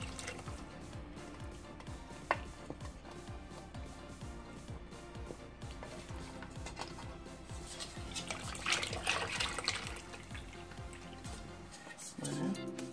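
About 500 millilitres of cooking broth is poured in a steady liquid stream with light splashing and dripping, fairly faint, ending in a brief clatter.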